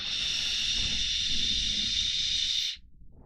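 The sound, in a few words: puff on UD Gaxi vape with 0.8 ohm core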